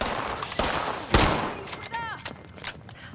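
Gunfire in Fallout 76, a few sharp shots with one loud close blast, followed by quieter scattered fire and ricochet-like whines, with a voice talking underneath.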